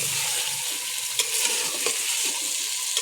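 Biryani masala fries in a pan with a dense, constant sizzle, stirred with occasional light spatula taps and scrapes, close and loud throughout with no voices.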